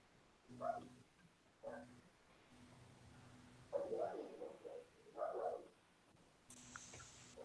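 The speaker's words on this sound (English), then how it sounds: "I hear a yappy dog." Small yappy dog barking somewhere in the background, a few sharp high yaps spaced out over several seconds, fairly faint and distant against a quiet room.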